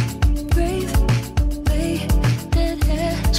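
The four-chord Anatole progression, a steady looping pop backing with a punchy low beat and sustained chords, dense and upfront with no talking.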